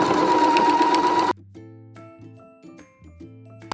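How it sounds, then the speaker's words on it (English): A sewing machine whirs in a steady, close run as it quilts a simple fabric potholder, then stops abruptly, leaving quiet background music. "Okay, let's start quilting."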